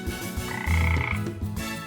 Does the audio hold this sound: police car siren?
no